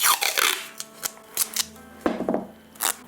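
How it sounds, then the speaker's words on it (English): Masking tape rips off the roll in short crackly bursts and gets wrapped around the ends of a part of a Soviet Majak desk clock under restoration, with several quick pulls and light handling clatter close by. "I'll just run round the two ends here and wrap some tape around it"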